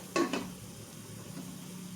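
Egg fried rice fries in an oiled pan, a soft steady sizzle opened by two quick scraping stirs near the start.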